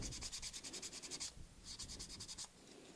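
Sandpaper rubbing over a 3D-printed part, two bursts of quick rhythmic back-and-forth scratching strokes, close and fairly quiet, with a short pause between them.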